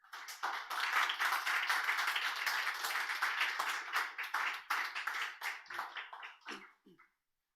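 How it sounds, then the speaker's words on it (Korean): A church congregation applauding to welcome a preacher to the pulpit, a brisk round of clapping from a modest crowd that tapers into a few scattered claps before stopping. "우리 전도사님 나오실 때 우리 형제 자매된 그런 사랑의 마음으로 박수로 환영하도록 하겠습니다"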